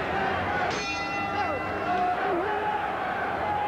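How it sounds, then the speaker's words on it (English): A boxing round bell rings once at the start of round eight in a Razor Ruddock versus Mike Weaver fight, heard under steady commentator talk and crowd noise. "The bell in round number 8."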